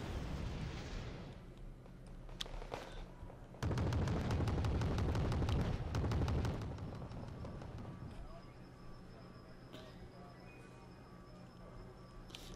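Gunfire and artillery in the war strategy game Wargame Red Dragon: a rolling mix of rapid shots and heavy booming blasts, loudest in a dense stretch midway, then thinning to scattered distant reports.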